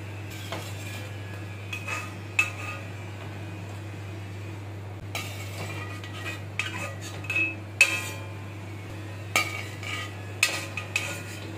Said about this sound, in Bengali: কপিগুলো জল থেকে বের করে নেব। নিচ্ছি জল থেকে।